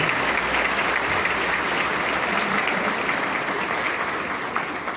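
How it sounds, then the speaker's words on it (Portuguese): A loud, dense roar of applause from a large crowd at the São Sebastião festival in Natal, sustained and even from start to finish with only a slight fade near the end. "Uma salva de palmas"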